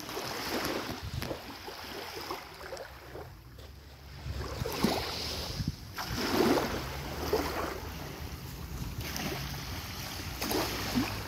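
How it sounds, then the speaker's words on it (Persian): Water moving at the edge of a calm sea, with gentle lapping and washing that swells and fades in soft waves, with faint wind in the background. "صدای آب."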